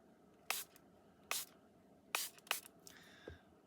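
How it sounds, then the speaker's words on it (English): Spray bottle misting coffee dye over paper, four short sharp hissing bursts in quick succession, close and fairly quiet, followed by faint rustling. "just this spray"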